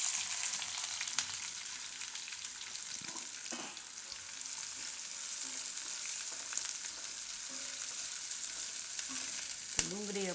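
Sliced onions turning in hot oil with green chillies and curry leaves for Gujarati ghau ni ghughri, heard as a steady hiss of frying with faint scattered stirring taps underneath, continuous and moderately quiet, no talking.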